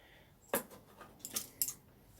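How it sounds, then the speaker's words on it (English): Garden scissors snip through butternut squash leaves on an allotment plant, three or four sharp close cuts with faint rustling between them, no talking. "I'm going to cut some of these leaves away"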